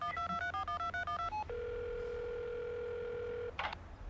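A phone rings out after a voice-assistant call is placed: a quick burst of dialing tones, then a steady, sustained ringback tone held for a couple of seconds, ending in a brief clattering noise when the call connects.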